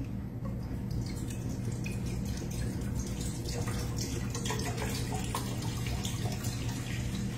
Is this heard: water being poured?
yes